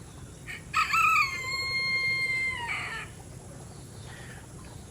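A rooster named Terrance crows once outdoors, a loud, clear cock-a-doodle-doo lasting about two seconds over a steady background hiss, followed by quieter ambient noise.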